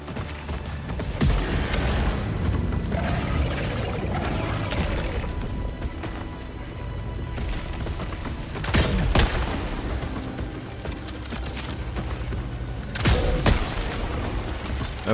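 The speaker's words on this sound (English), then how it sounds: "Firing non-lethal payload." Weapon fire in Helldivers 2 launching a non-lethal payload, heard as a dense rumbling battle din with a few sharp blasts and crashes spaced through the scene, loud and close with no talk.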